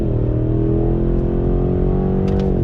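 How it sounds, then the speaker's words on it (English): Cadillac CT6-V Blackwing V8 sedan, 2019, accelerating under throttle with fast shifts, a loud, smooth, steady engine drone heard up close, the pitch holding level and dipping slightly at the end. "Nice V8 sound, super smooth, super smooth."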